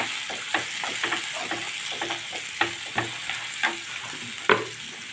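Onions sizzle softly in a hot pan while a spoon scrapes and stirs them at a steady, unhurried pace.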